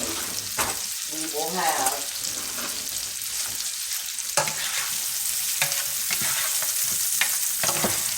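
Onions frying in bacon fat, a steady close sizzle with intermittent scrapes and clinks of stirring, while a person briefly speaks over it.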